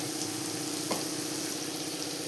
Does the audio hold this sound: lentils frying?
yes